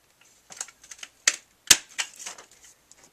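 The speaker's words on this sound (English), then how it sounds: "I'm just going to punch the whole way along this slanted side that we just cut." A handheld paper punch works along the slanted edge of a handmade card, giving a series of irregular crisp clicks and snaps, two of them notably sharper, in a quiet room.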